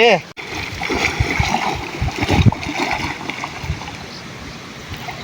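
Splashing from people playing in water to cool off in hot weather, a busy mix of splatters and churning water close by, with voices talking over it throughout.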